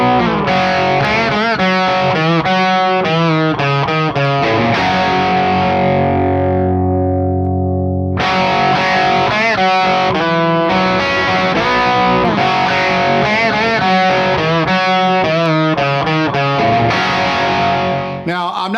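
Electric guitar played through a heavily overdriven, gnarly amp, loud and up close: choppy distorted riffs, a sustained ringing chord fading out midway, then more dense driven playing, with no talking.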